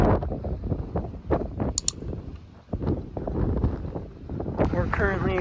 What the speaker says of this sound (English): As you can see, it's super windy.